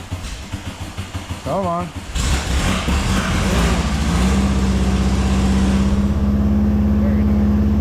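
A Volkswagen Super Beetle engine is started in the morning: a short cranking, then the air-cooled engine catches and settles into a loud, steady, close idle. A voice speaks briefly just before it fires.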